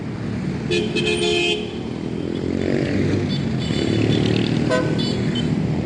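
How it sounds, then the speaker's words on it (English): Car horns honk repeatedly in busy neighborhood street traffic, several short toots and longer blasts over a constant rumble of passing vehicles and engines, fairly close and loud. "some of the honking is because of the camera"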